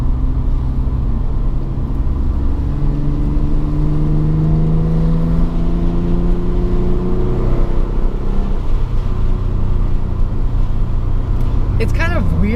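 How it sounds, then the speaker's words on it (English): A car with a loud exhaust leak drives slowly past a house, its engine a deep, throaty rumble with rising and falling drone tones, steady and close, ending in a brief high whine. "the force of the exhaust just starts shooting through the regular exhaust rather than falling out of the exhaust leak"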